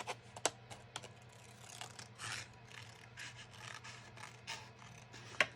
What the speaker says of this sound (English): I'm just going to use scissors and trim this.